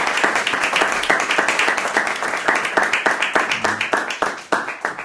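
An audience claps steadily to welcome a guest at an intimate Spanish-language talk event, dense applause running throughout and thinning slightly toward the end.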